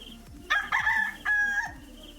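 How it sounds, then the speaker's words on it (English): A rooster crows once nearby, a loud drawn-out call in two bursts with a brief break between them, over a low steady background. "I hear a cock."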